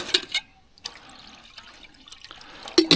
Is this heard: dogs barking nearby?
no